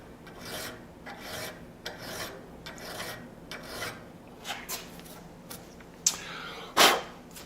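Hand file rasping against the ricasso of a forged Bowie knife guided by an unhardened file guide, in repeated slow strokes about a second apart, close and clear, ending with a couple of sharper scrapes.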